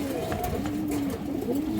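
Female pigeons coo in low, wavering calls, close by and fairly clear, with someone talking faintly in the background.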